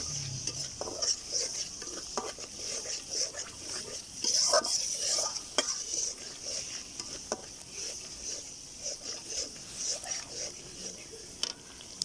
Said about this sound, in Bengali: এখন আমি সবগুলো মশলা ভালো করে নেড়ে চেড়ে নেবো